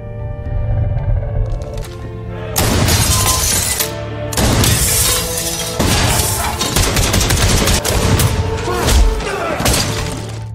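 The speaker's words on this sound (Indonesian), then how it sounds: "terjadilah pertarungan dan tembakan" Bursts of rapid gunfire mixed with shattering glass, loud and chaotic, over a sustained musical drone.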